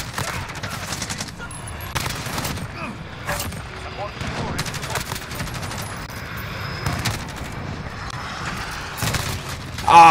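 Rapid automatic bursts from a Kilo 141 rifle in Call of Duty Modern Warfare, with repeated clusters of sharp gunfire across the whole stretch, sometimes overlapping other shots and game noise, moderately loud and close, with a voice talking in places.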